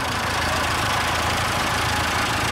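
A Soviet off-road truck fitted with a MAZ engine from a military tractor idles close by, a steady low rumble with a rapid, even knocking pulse that holds through the whole stretch, with no talk over it.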